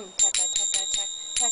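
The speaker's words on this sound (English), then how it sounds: "You can also dull the first one and make it sound like this." Finger cymbals (zills) played in a quick rhythmic pattern of about seven bright metallic strikes, the first stroke dulled, ringing pitched tones close up, with faint voice-like sound around them.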